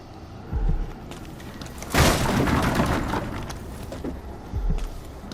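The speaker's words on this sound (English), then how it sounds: "I just crossed a tripwire and an explosion went off." A tripwire explosion in Dishonored 2 bursts out as a sudden, broad booming blast that rumbles and decays over a couple of seconds, bracketed by lighter thuds and scuffs.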